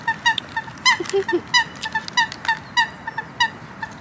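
Rapid, repeated nasal quacking calls from several ducks overlap in a busy chorus, loud and close, with one lower call briefly mixed in.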